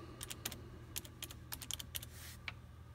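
Fingers tapping on a computer keyboard, quiet and close: quick bursts of crisp keystrokes in uneven clusters over a low background hum, with no voices.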